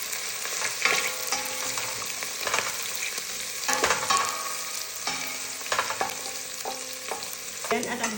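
Onion and garlic sautéing in a little olive oil in a pot while being stirred, with a close, steady frying sizzle broken by repeated scrapes and knocks of a spoon against the pot.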